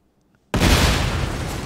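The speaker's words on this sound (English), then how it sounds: "I hear explosions" In-game explosion on PUBG's Karakin map bursts out of silence with a sharp, heavy boom, then a sustained rumbling roar that lingers near and loud.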